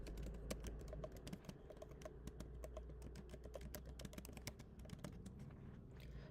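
Quiet typing on a computer keyboard, a steady stream of light, close key clicks with uneven rhythm over a low background hum.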